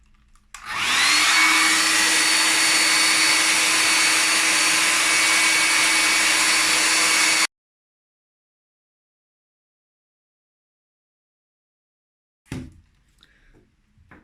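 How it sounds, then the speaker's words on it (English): A hair dryer used to melt crayons switches on and blows with a loud, steady whooshing roar for about seven seconds before cutting off abruptly, followed by silence and a few small handling knocks. "So if you are holding your hairdryer like this, you can blow in different directions and get different effects"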